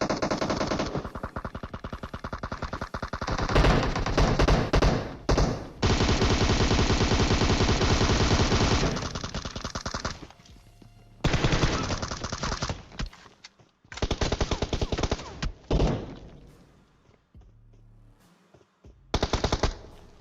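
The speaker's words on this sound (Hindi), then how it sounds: "अब गोलियां चल रही है दबा के" Sustained automatic gunfire in the battle royale game PUBG, with long dense bursts of rapid shots broken by short pauses and quieter gaps, loud and close, with no talking.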